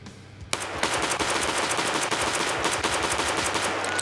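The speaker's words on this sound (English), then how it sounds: "Now here is the earliest pistol you can get, 443 MP." MP-443 pistol fired repeatedly in the video game Escape From Tarkov, a quick steady string of sharp, loud shots starting after a brief quiet moment, with faint game ambience beneath.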